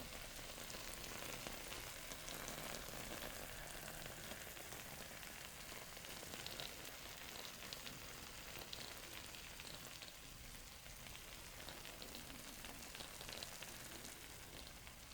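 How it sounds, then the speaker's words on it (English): Cookies fresh out of the oven, left in about five minutes too long, sizzle and bubble with a steady, dense crackling hiss that holds evenly and close throughout, with no voices. "So I just took it out and it is sizzling, so I'll let you hear that."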